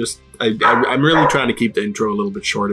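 Dogs bark in the background in short bursts, largely masked by someone speaking steadily up front.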